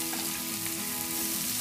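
Onions and mushrooms frying and caramelizing in a pan for a patty melt, a close, even crackling sizzle with no voices.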